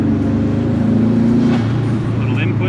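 A Subaru GC8 engine that stumbles on secondary throttle input after a fuel pump and regulator fix gives a close, steady low drone with a slight throttle swell midway.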